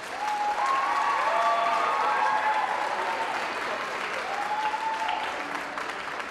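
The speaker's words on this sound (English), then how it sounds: "Give them another round of applause, please." An audience at a Winton Woods school orchestra night applauds after the orchestra plays Ode to Joy, a dense, sustained clapping that fills the hall, with a few whistles over it before it slowly tapers.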